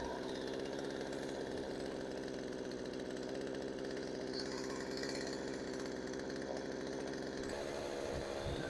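An old Craftsman chainsaw left outside for years idles steadily up close, a loud continuous buzzing drone that shifts and roughens near the end.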